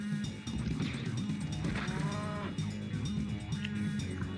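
Space cows moo in the Spyro Year of the Dragon video game, with several drawn-out, wavering bovine calls rising over a busy, continuous bed of game sound.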